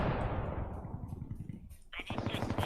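A burst of muffled, rapid suppressed gunfire in a video game rattles on, with a voice talking over part of it.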